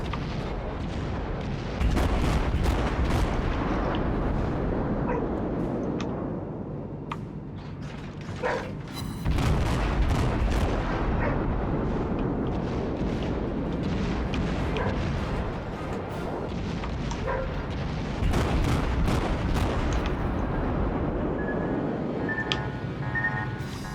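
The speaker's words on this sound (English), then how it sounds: "Was not expecting that counter battery fire from the battleship." Battleship counter-battery gunfire in World of Warships, a series of loud booming salvos and sharp blasts in irregular bursts over a rumbling battle background, with no speech.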